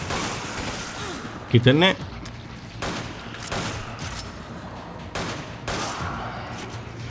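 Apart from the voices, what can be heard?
gunfire in video game Resident Evil 5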